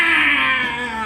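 A video game character in Persona 5 Strikers imitates a cat's meow in a short, steady, whiny vocal cry, close and fairly loud, with no other talk.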